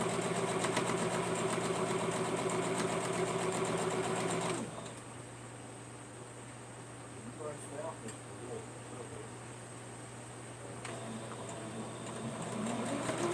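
A sewing machine stitches a hexagon quilt with a steady, fast mechanical hum for several seconds, then stops; a voice talks in the background while it runs and after it falls quiet.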